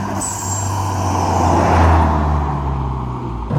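A Ford Sierra Sapphire Cosworth engine idles steadily with a brief high whistle near the start, then a short sharp turbo dump valve release at the end, a blow-off hiss.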